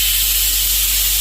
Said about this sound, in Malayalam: കുക്കർ അടച്ച് നമ്മൾ ഒരു 8 വിസിലോളം അടിക്കണം.